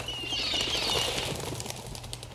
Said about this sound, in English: seagulls